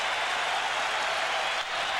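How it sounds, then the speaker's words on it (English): Hockey crowd at a Rangers home playoff game against the Nordiques applauding as a penalty is killed off, a steady broad wash of clapping and cheering that holds for about two seconds with a brief dip near the end. "the crowd applauds"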